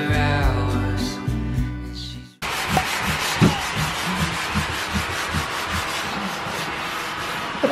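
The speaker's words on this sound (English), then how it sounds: "right now I need to sand the walls" Sandpaper rubbing steadily over bedroom walls late at night, a continuous near scraping texture with rhythmic strokes, preceded by a couple of seconds of music.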